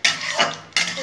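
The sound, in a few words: dry chili and carom seed tempering frying in pan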